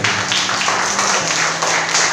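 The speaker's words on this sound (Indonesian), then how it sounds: "Tepuk tangan untuk kita semua." Applause from a school audience at an SMK in Krui, Lampung fills the whole stretch as a dense, steady wash of clapping, fairly loud and close, with no voices over it.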